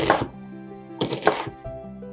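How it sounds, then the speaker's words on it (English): A knife chops onions on a cutting board in a few quick crisp strokes, close up, with short pauses between bursts. "And then I'm just chopping up the onions."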